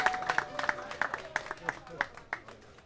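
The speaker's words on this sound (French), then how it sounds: "Allez, les deux champions, vos applaudissements." An audience applauds canoe-kayak champions at a nautical club launch ceremony in Foundiougne, with brief, scattered claps under a speaking voice.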